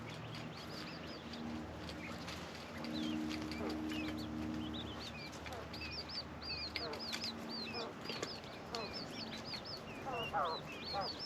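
Newly hatched baby chicks peep high and rapidly while hens cluck low nearby. Together they make a busy, steady barnyard chatter, with soft voices now and then.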